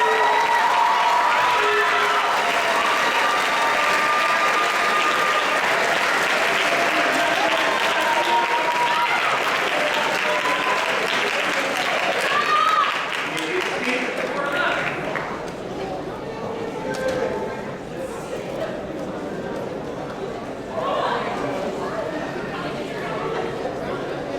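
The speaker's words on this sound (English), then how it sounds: "let's have a round of applause for our foreign language award recipient." Sustained audience applause at a grades 9–12 school awards ceremony as a foreign language award recipient comes forward, loud and steady for about fifteen seconds, then thinning into scattered claps under crowd chatter.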